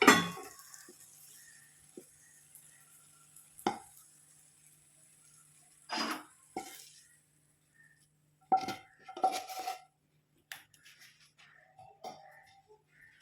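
Food being transferred into an oiled vessel for a sweet snack, with scattered clinks and scrapes of utensil against the dish separated by quiet gaps.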